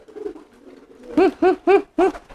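A pigeon coos close by: a soft low murmur, then four distinct, evenly spaced throaty coos.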